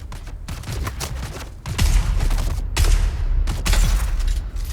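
Triple-shot weapon fire in the Dune Awakening game, a rapid series of sharp blasts in bursts with brief gaps between them, loud and close, no voices.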